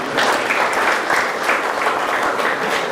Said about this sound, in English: let's please give the parents and guardians a real round of applause, please